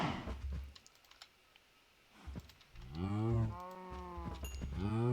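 Cows moo in Minecraft, two long, drawn-out bellowing moos near the end, mixed with rapid computer keyboard typing and clicks earlier on.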